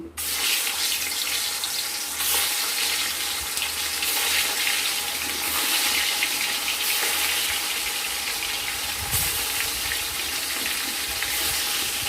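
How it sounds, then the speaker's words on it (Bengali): Fish fries in hot oil in a pan for a fish curry with lentil dumplings, giving a steady, close hiss that runs unbroken, with a soft low thud partway through and no speech. "এবার একটু আমরা আঁচ কমিয়ে মাছ ছাড়বো, যেহেতু আঁশবিহীন মাছ ফুটে"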